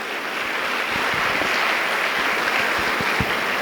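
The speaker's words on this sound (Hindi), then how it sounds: "पूरा सदन एक बार ढंग से तालियां बजा दे" A hall audience at a motivational kavi sammelan poetry recital breaks into sustained applause, a dense wash of many hands clapping with a few sharper claps standing out.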